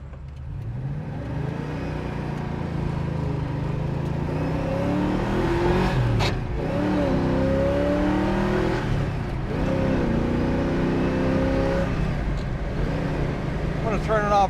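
A 1970 Ford Mustang Mach 1 on the road, its engine droning and climbing steadily as it accelerates through the gears toward about 55 mph, loud and close throughout.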